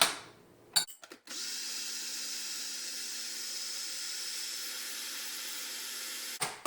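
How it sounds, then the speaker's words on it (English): A blender whirs steadily through raw vegan banana cream pie filling, a loud, constant motor drone that starts after a few short bursts and stops abruptly near the end. "I like to blend the strawberries in."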